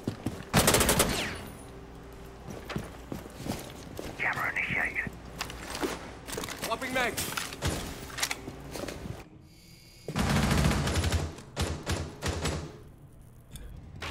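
Gunfire in Rainbow Six Siege during a college esports match, with sharp bursts and rapid volleys scattered across the span, loud at the start and again near the end, between quieter mechanical game noises.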